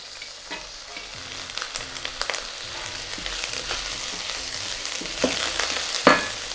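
Prawns and frozen peas sizzle steadily in a hot wok for pineapple fried rice, with a constant frying hiss, scraping stirs of a utensil and a sharper clatter near the end.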